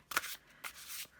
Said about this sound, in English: So let's just do an overhand shuffle, which I also find difficult with these cards because they're really big.